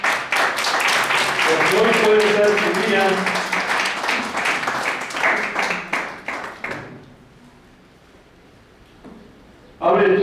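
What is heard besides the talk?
congregation clapping hands in church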